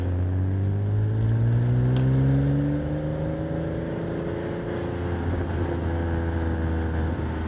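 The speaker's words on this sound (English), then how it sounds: "That is the first drive of the Porsche 987 Boxster" A Porsche 987 Boxster engine drones while driving on an early morning road, its tone rising through a gear as it accelerates, then holding a steady cruising hum, with a brief click partway through.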